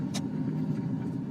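A 1987 VW Santana Quantum GLS driving on the road, a steady low engine and road rumble heard from inside the car, continuous and moderately loud.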